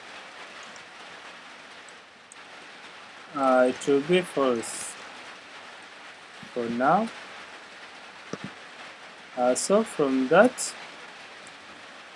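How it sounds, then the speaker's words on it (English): Rain falls outside in a soft, continuous hiss, heard faintly behind someone speaking indoors. "it's right now raining, so that sound you're hearing, it's raining right now."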